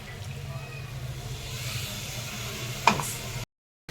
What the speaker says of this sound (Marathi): तर आपण त्याच्यामध्ये आता हे थोडं पाणी ऍड करतो आहोत.